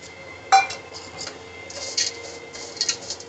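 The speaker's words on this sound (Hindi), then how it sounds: "अब इसमें हम डाल रहे हैं ये मावे जो हमने रखे हुए थे सारे काट के" Chopped mawa (khoa) dropped into a cooking pot for sheer korma, a sharp clink followed by a few light metallic taps and scrapes, close and fairly quiet.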